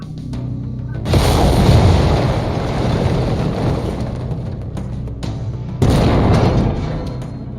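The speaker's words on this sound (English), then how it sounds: "Lasers are mapped to Weapon Group 2. Fire them when ready." Laser weapons firing from a mech in the video game MechWarrior 5: Mercenaries, loud booming bursts with a heavy sustained roar, one volley starting early and a second striking near the end, with no talking.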